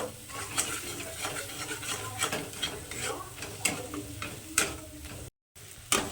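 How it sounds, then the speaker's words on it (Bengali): Spice masala of turmeric, cumin and coriander powder is stirred and fried in a pan for a South Indian chicken curry, with steady soft sizzling and repeated scraping strokes of the spoon at close range. "মশলাটাকে এবার আমি আবারও খুব সুন্দর করে এবার কষিয়ে নেব"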